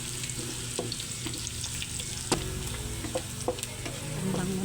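Spices sautéing in oil in a pan for sweet and sour pork, a constant sizzle under a spatula's sharp taps and clicks against the pan, with a low hum in the background.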